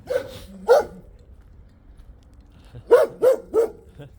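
An angry dog barks sharply and close by, with two barks near the start, a quiet pause, then three more in quick succession.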